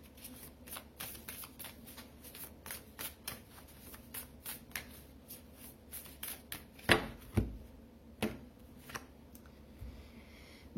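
Tarot cards being shuffled by hand: a steady run of crisp riffling flicks with a few louder slaps, close and fairly quiet, and no speech.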